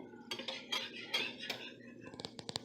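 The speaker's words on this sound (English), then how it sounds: "So let's add it just a little slowly, and then we'll whisk it in." A whisk knocks and scrapes against a bowl while dark Guinness beer is worked into a paste, several uneven strokes followed by a quick run of sharp metallic clinks at the end, close and fairly quiet.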